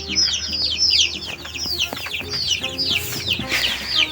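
Meat chickens kept in a cheap homemade cage cluck and squawk repeatedly at close range, a busy overlapping chorus of short calls with soft rustling beneath.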